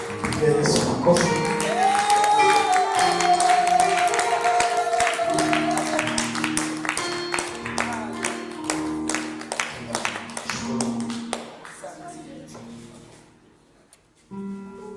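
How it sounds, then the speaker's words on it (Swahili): A church congregation at a Monday morning service claps in praise of Jesus, a dense, steady round of applause that gradually thins and fades toward the end, with a voice and some background tones carrying over it. "Yesu makofi."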